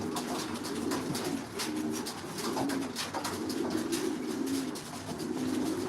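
Several racing pigeons coo close by in a loft at feeding time, repeated soft, throaty phrases overlapping in a steady murmur with no talking.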